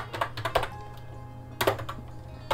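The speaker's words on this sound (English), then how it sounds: "So I'm going to type monogram" Keys on a computer keyboard are tapped in two short, close bursts separated by a pause, over a low steady hum, with no talking.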